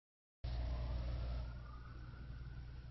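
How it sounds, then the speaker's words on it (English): A siren starts abruptly and wails steadily, loud at first and then slightly softer, with a rumbling low background beneath it. "Hear that siren?"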